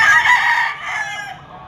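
A pumpkin hatch gamefowl rooster at a Lipa auction market crows once, loud and close, the call trailing off toward the end.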